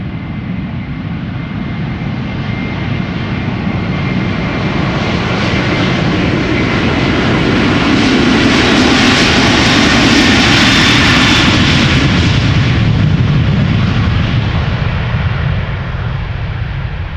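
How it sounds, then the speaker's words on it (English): A KLM Airbus A330-300 jet departing for Atlanta roars steadily, swelling to a loud peak midway as it passes close, then easing off while still strong. "This is KLM flight 623 outbound to Atlanta, Georgia,"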